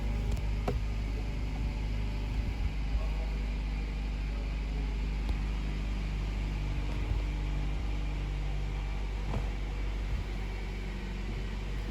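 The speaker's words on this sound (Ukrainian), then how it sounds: "Запускаємо двигун." A 2012 Nissan Qashqai engine starts and idles steadily with a low, even rumble and faint mechanical whir throughout, no voices.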